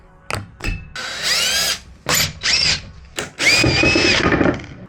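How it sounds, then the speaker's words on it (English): A power drill backs screws out of small slat bumpers on a wooden bed frame, whining in several loud bursts of rising and falling pitch separated by short pauses, close by with no talk. "I'm gonna carefully take off these little slat bumpers, I'll call them that, and keep the screws in the slat bumper"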